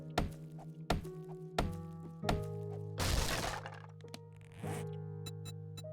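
Stone axe strikes breaking open crates in 7 Days To Die, a run of sharp thunks and cracks roughly every second, with a longer splintering crash midway, set over a steady low game hum.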